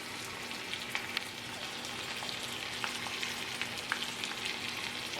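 Chicken and tomatoes sizzle steadily in a pan, a close, soft, continuous crackle with occasional small pops and no talking.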